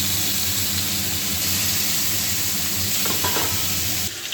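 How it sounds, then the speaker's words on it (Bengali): Hilsa fish frying in a pan with nigella seeds, salt and green chillies, a steady loud sizzle running throughout with faint stirring scrapes near the end. "এর সাথে আমি ইলিশ মাছগুলো দিয়ে দেবো"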